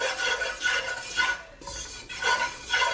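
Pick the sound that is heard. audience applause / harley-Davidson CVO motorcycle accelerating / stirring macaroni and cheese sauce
stirring macaroni and cheese sauce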